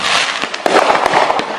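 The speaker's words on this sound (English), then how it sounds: "some people won't be launching off a few early pyrotechnics" Fireworks explode in a rapid crackling burst, loud and close, with sharp pops layered over a dense hiss throughout.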